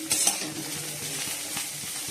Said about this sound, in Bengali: দেখো পেঁয়াজ দিয়ে আলু ভাজা করেছি